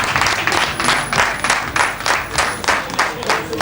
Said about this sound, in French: Nous allons aussi les recevoir par des acclamations